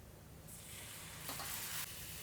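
Tomatoes hit golden-brown onions frying in a pan and set off a loud, steady sizzle that swells into a stronger hiss partway through, with no talk.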